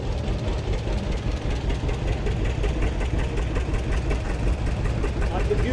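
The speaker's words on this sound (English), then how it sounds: "gasoline and oil engine tractors and power-driven machinery of historical value" A steady, low chugging antique gasoline engine tractor idles with a rhythmic knock, loud and close, with voices faintly under it, at a town parade.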